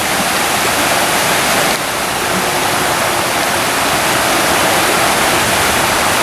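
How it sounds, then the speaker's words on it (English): Steady rushing splash of a small waterfall, loud and close, a continuous hiss of falling water with no voices. "It's a little rest area with little waterfalls."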